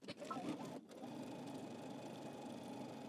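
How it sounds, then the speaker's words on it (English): Sewing machine stitches a dress hem in a fast, even whirring run after a brief stop-start at the beginning, close and moderately quiet, with no talking over it. "You're going to stitch your entire hem back stitch at the end."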